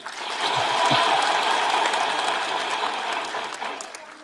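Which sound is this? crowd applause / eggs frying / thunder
crowd applause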